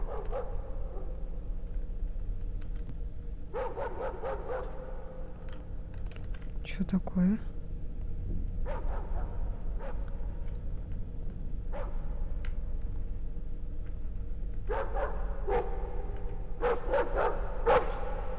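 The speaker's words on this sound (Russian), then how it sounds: "Ты чё гавкаешь?" A dog barks in a string of short, sharp bursts spread across a quiet stretch, with a person talking in between and a soft tapping underneath.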